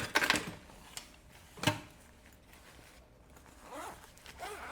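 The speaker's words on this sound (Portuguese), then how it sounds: "Vou fechar esse zíper." Zipper being closed on a handmade puffer backpack in a sewing workshop, a few short, close rasping pulls separated by quiet handling.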